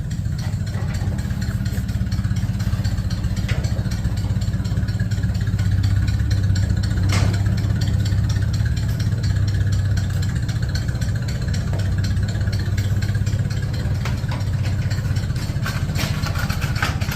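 A 4.8 LS V8 with multi-port fuel injection and a turbo 350 transmission, swapped into a 1969 Plymouth Valiant, runs with a steady, loud, close rumbling engine drone and only slight rises in pitch.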